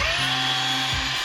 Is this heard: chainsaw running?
yes